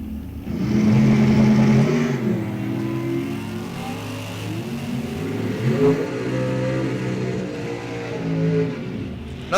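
Dragstrip at an NHRA National Open: an 01 Dodge Viper and an 80 Chevrolet Monza rev hard and launch, loud layered engine roar with shifting pitches that stays close and intense for the whole stretch.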